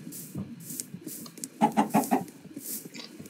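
A short burst of four quick clucks in a row from a Minecraft chicken, surrounded by soft low background sound and faint noise.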